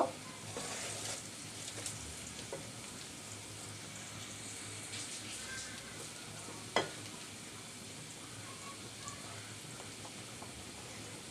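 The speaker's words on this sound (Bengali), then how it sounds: "এবার এই মাখানো ইলিশ মাছটা আমি দিয়ে দিব" Hilsa fish pieces marinated in kasundi mustard sauce frying in a pan, a faint, steady sizzle with light crackling and one sharp clink midway, heard close but quiet.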